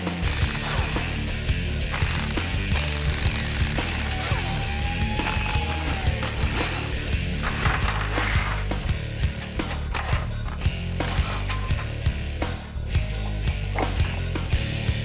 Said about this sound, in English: we'll remove the left and right differential brackets.